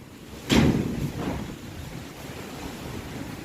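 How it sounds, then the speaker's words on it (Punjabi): Wind gusts across the microphone in a low rumbling rush, with a louder burst near the start that settles into a steady blustery hiss. "ਹਵਾ ਚੱਲੀ ਜਾਂਦੀ ਹੈ ਮੀਂਹ ਤਾਂ ਆਉਂਦਾ ਨਹੀਂ"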